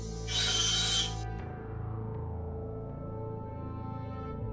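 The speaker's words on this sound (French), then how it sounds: "on coupe les reliquats des tiges de coulée et on meule les traces résiduelles" High-speed carbide bur grinding cobalt-chrome casting sprue remnants on a dental framework, a loud bright whine for about a second, then stopping while a low motor hum carries on alone.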